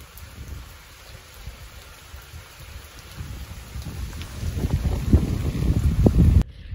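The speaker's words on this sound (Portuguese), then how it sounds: "Que coisa linda essa chuva." Rain shower falling outdoors in a garden with potted plants, a steady broadband patter that swells louder and heavier toward the end before cutting off abruptly.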